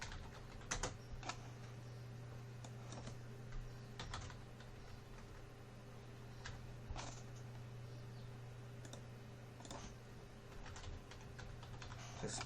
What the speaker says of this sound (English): and then you can type in your name.